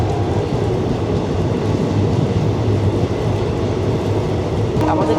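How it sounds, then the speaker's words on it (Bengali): The Teesta Torsa Express pulls out of New Jalpaiguri bound for Sealdah, giving a steady, loud, continuous rumble from start to finish with no distinct breaks. "আমাদের ট্রেন রওনা দিল নিউ জলপাইগুড়ি থেকে শিয়ালদার উদ্দেশ্যে"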